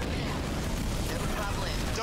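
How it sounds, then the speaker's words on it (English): Enemy structure blowing up in Halo Wars 2, a rumbling explosion with crackling debris layered over dense battle noise and voices, fairly quiet overall. "Destroyed an enemy structure."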